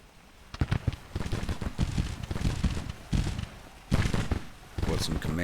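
An artillery volley rings out in a Gettysburg Civil War strategy game: repeated booming cannon blasts with crackling impacts in uneven bursts, loud and close, under a speaking voice.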